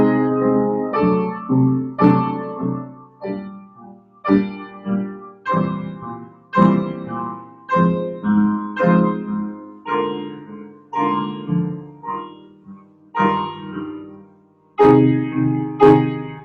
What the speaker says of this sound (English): If I play the triads by themselves without the 16 notes, just the harmony will sound like this.